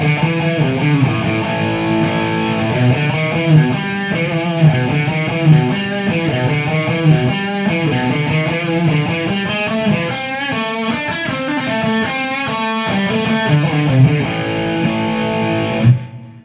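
Distorted electric guitar playing a riff section, a dense, continuous run of repeated riff phrases heard alone throughout and ending abruptly.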